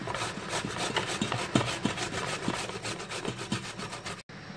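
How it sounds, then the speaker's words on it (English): Raw yam being grated on a hand grater, a steady rapid rasping scrape close up and continuous for several seconds, then stopping briefly before resuming, with no talking. "I'm going to grate the yam first and we'll continue from there."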